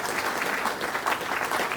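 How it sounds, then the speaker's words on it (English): An audience at an academic talk gives a round of applause, a dense, even wash of many hands clapping close and fairly loud throughout, with no pauses. "You can give her a round of applause."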